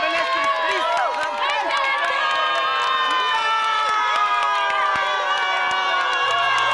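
A crowd of desperate residents at a food bank distribution shouts and calls out together in a dense, steady clamor of overlapping voices, loud and continuous throughout.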